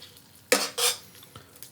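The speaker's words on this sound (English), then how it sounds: "I'm going to put the chicken back in. And we're just going to move it around in that sauce" Chicken pieces are stirred through a Marsala mushroom sauce in a pan, giving two quick scraping clatters of a utensil against the pan followed by a faint tap, with no talking.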